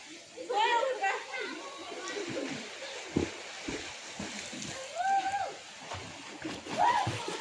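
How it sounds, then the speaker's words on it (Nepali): School children swimming in a river-fed pool, distant splashing and excited children's shouts with water sloshing, voices talking nearby throughout. "स्कुल नानीहरू यहाँ स्विमिङ गरिरहेको छ"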